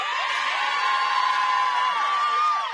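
A travelling crowd on the sideline of a women's Division 1 club rugby championship cheers and whoops in sustained, overlapping shouts, loud and close.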